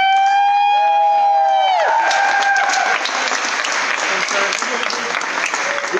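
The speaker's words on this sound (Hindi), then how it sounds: "तो मैं चाहता हूँ हम सब जोरदार तालियां" An audience at a Vestige achiever recognition event breaks into loud, sustained clapping right after a held musical chord fades, filling the room steadily to the end.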